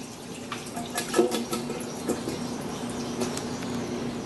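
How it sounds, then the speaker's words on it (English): Cold water from a kitchen tap runs steadily over cooked broccoli, a continuous close splashing hiss with a few louder spatters as it hits the florets. "And run cold water over it"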